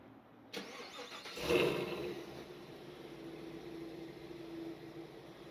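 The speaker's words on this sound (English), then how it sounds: "one thing you can't do with the manual, remote start." A 2026 Cadillac CT5-V Blackwing automatic remote-starts at a distance with a short swell, then settles into a quiet, steady idle hum.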